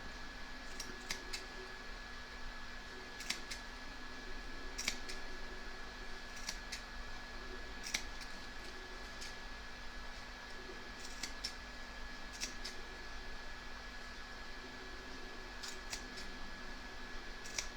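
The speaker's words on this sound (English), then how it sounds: "you want to snip towards the stitch line, taking care not to cut it" Scissors snip fabric coaster corners toward the stitch line, with a series of short sharp clicks repeated at irregular intervals over a faint constant hum, close and fairly quiet.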